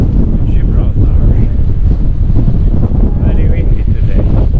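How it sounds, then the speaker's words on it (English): Loud, steady wind at Gibraltar buffets the microphone for the whole stretch, a dense low roar with no break. "Very windy today."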